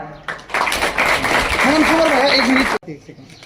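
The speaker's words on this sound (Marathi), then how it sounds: "जोरदार टाळ्या" Loud applause from an audience at a Maharashtra government felicitation event, a dense burst of clapping lasting a few seconds and stopping abruptly, with a voice over it.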